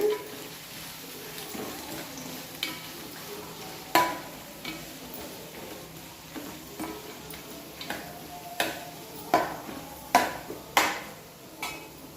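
A utensil stirs onion pieces in a pan for a fish curry, giving a series of sharp clinks and taps against the metal at irregular intervals, close and fairly quiet, with no voices.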